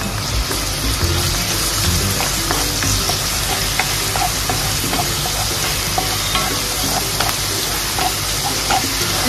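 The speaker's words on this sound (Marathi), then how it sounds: "आपलं परतवून झालंय लसूण आणि मिरची" Garlic, green chili and ginger-garlic paste frying over a low flame for a chicken liver masala, a steady dense sizzle with scattered spatters and stirring clicks throughout, loud and close, with no talking.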